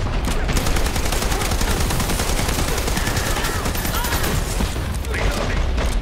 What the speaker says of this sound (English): Why are they shooting my shield?